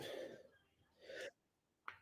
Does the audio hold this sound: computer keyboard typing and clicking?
no